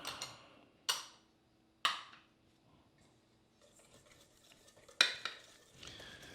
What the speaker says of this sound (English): I'll give it a little stir